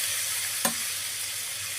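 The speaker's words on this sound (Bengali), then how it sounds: "সরিষা বাটা দিয়ে নাড়াচাড়া করব" Mustard paste sizzles in a frying pan with a steady close hiss, broken by a single short scrape or clink from stirring.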